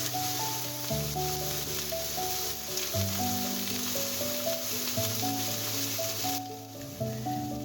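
Potato and eggplant frying in a pan with panch phoron and green chilli give a steady sizzling hiss, partly masked by louder melodic background music playing over it.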